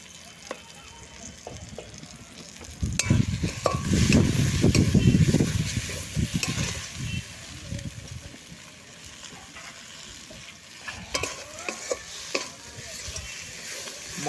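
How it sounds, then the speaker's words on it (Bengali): Powdered spice masala with turmeric, chili and cumin frying in a pan as it is stirred, a soft sizzle with scraping strokes that swell loudest for a few seconds, then settle into quieter stirring with occasional clicks. "এইভাবে মশলাটাকে একটু কষিয়ে নেব"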